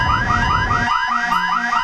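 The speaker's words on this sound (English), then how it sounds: "Oh damn, turn off that alarm." A spaceship alarm in the Elite Dangerous video game: a loud, rapidly repeating electronic warble, about six pulses per second, blaring steadily with a low hum beneath.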